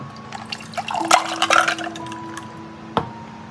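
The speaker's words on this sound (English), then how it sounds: "I will pour cold water." Cold water poured into a container during a magic color-changing paint craft, a short close splash and trickle with light clinks and drips, fading after a second or two, with a small drip near the end.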